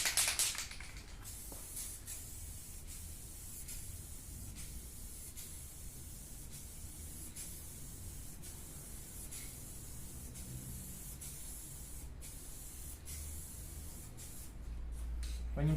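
Steady hiss of an aerosol spray paint can held down for a long stretch while painting a Land Rover Discovery 2 Td5 bonnet, close and fairly quiet, with a few brief breaks and clicks.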